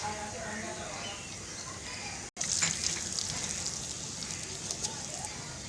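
Spices sizzle in hot oil for a ragda chana (dried white peas curry): red chilli powder, cumin seeds and coriander powder. The hiss is steady, dense and close, with one very brief break partway through.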